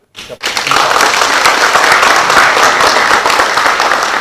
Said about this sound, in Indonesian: mari kita cabut dengan tepuk tangan